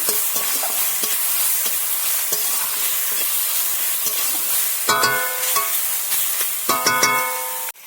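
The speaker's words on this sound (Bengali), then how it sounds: "তো প্রথমে আমি কড়ার মধ্যে তেল দিয়ে দেবো মাছ ভাজার জন্য, চিংড়িটা ভাজার জন্য দিয়ে দিয়েছি" Close, steady sizzling of prawns frying in oil in a wok, with a constant hiss and intermittent clinks and scrapes of a utensil against the pan; no voices.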